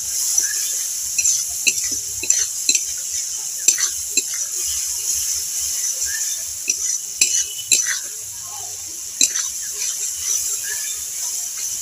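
A ground paste of mint, coriander leaves and green chili is stirred in hot oil in a kadai, with repeated clicks and scrapes of a utensil over a steady high sizzle.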